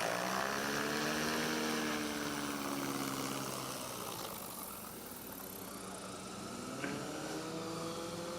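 Racing propeller aircraft at the Reno air races drone steadily with piston engines and propellers, the pitch sliding down as a plane passes and recedes into a distant idle hum.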